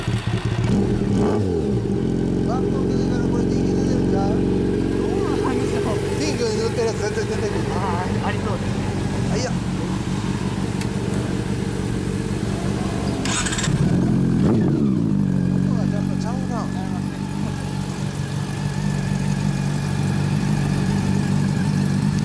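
A 2012 Honda CB400 Super Bol d'Or Hyper VTEC Revo with an LCI exhaust runs close by, its engine rumbling and revving in swells beneath steady conversation between people nearby.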